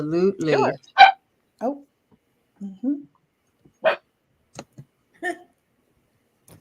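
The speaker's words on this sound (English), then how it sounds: "Oh, okay, that was a dog." A few short, sharp dog barks pop up between snippets of conversation, sounding fairly close and separated by brief pauses.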